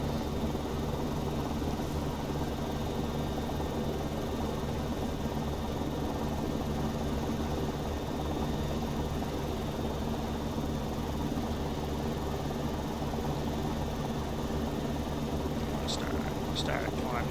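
An AS350 helicopter in the X-Plane 11 flight simulator drones with a steady turbine and rotor hum, constant and dense throughout, with a few faint higher tones near the end.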